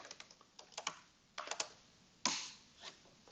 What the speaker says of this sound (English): As you can see, I can type in,